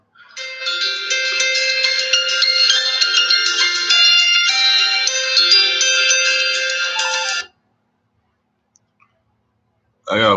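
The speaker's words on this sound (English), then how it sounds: "I got a phone call." A phone ringtone chimes loudly and continuously for about seven seconds, then cuts off into near silence before a brief burst of sound at the end.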